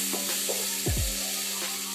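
Crushed ginger and garlic frying in a pan for a chicken fry, giving a steady close sizzle with a few soft stirring scrapes over two seconds.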